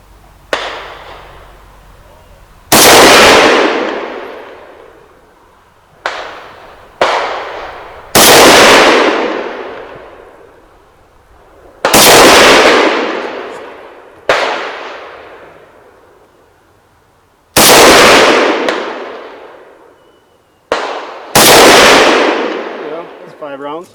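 A Swedish K m/45 submachine gun fires single shots outdoors, loud sharp cracks with long echoing decays, spaced irregularly several seconds apart, about ten reports in all.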